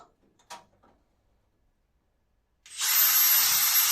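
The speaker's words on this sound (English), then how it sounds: "So you'll see me wire brushing a bunch of paint off before doing each plug weld." A wire brush strips paint off a steel car boxing panel before plug welding; after a few faint clicks and a pause, a loud, steady, hissing scrub starts up nearby and continues.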